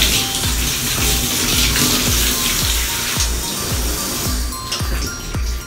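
Water runs steadily during a half bath, a continuous close splashing wash with a repeating rhythmic thump underneath, loud and without talk.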